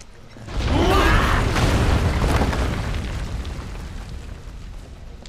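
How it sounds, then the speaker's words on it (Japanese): A deep booming explosion in the video game Final Fantasy VII Remake bursts out, then a long rumbling roar with mechanical creaks slowly fades away. "爆発止まらねえな"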